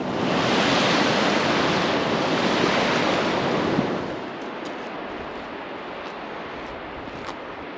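Surf breaking on a Scottish coastal beach, a broad roaring wash that swells loud for the first half then eases to a softer hiss, with gusty wind buffeting the microphone.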